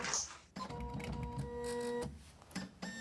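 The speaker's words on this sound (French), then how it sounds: "Ils ont dans leur camion une petite imprimante qu'ils installent dans la véranda." A small portable printer, set up in a veranda by workers, runs a print job: a steady mechanical whir with a faint electronic whine lasts about a second and a half, then stops, followed by brief shuffling.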